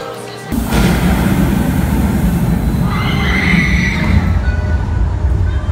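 The Thunderbird roller coaster at Holiday World runs with a loud, continuous roar of wheels on track that starts abruptly and holds steady, with faint higher rattling and screeching partway through and no talk.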